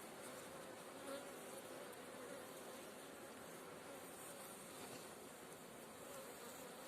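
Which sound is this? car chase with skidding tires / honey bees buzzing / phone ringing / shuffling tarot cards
honey bees buzzing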